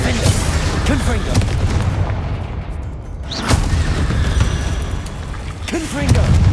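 Repeated Confringo spell explosions in Hogwarts Legacy, loud booming blasts in quick succession amid combat noise, with a brief lull before more bursts.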